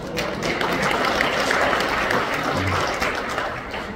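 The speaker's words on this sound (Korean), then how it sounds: "생각보다 박수 소리 좀 적네요." Audience applause fills a hotel banquet hall (Lotte Hotel, Sogong-dong, Seoul) during a newspaper's second-anniversary celebration, a steady, dense clatter of many hands that holds at an even level throughout.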